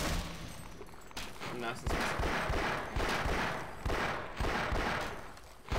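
Rapid gunfire in Half-Life crackles in repeated bursts, loud and close, with brief pauses between volleys while a person talks over it.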